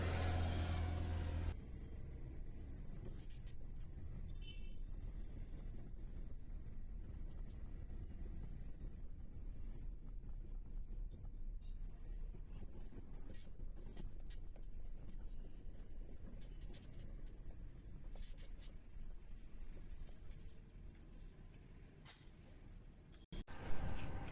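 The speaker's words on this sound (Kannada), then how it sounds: "ಗಾಡಿ ಅಂತೂ ಗ್ರೀಸ್ ಮಾಡೋಕ್ಕೆ ಸ್ಟಾರ್ಟ್ ಹಾಕಿದ್ದೀನಿ" A truck's diesel engine idles steadily at close range after being started for greasing, a continuous low rumble holding level throughout with no voices.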